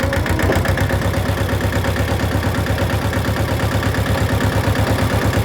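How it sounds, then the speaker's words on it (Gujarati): A farm tractor's diesel engine runs steadily at close range in third gear, a continuous loud rhythmic chugging throughout with no speech. "હાલ્યું છે આપણું ટ્રેક્ટર"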